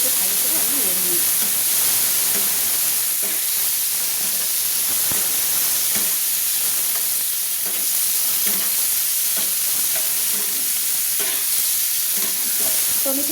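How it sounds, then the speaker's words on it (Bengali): Tomatoes stirred and fried in a pan over fried onions while cooking a cabbage dish with fish head: a steady, loud sizzle with scraping stir strokes throughout, and a voice talking over it. "টমেটোগুলোকে ভালো করে আমি নেড়ে নিচ্ছি।"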